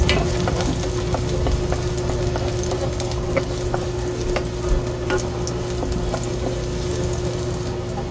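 Garlic sautéing in oil in a pan for a home-cooked vegetable dish, a steady loud sizzle with occasional scraping stirs, close up and with no talk.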